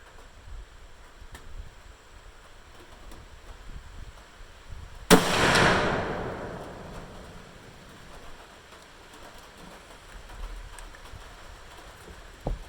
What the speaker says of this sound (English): I'm going to shoot one shot at 100, see if I hit the circle here